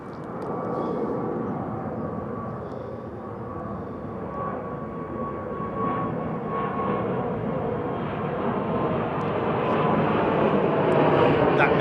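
An Airbus A380 airliner departs London Heathrow, its engines a loud, steady roar that slowly builds and grows nearer across the whole stretch, with a faint whine running above the rumble.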